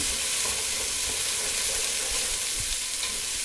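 Food sautés in a large, nearly full pot with a loud, dense, continuous sizzle and hiss. Occasional scraping stirs come through close up, and no one talks.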